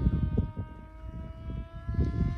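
A Crash Test Hobbies Widowmaker RC wing plane runs its 3S electric motor near full throttle, a steady close high-pitched whine with a rough, fluttering low rumble underneath.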